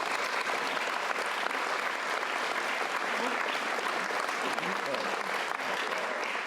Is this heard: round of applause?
yes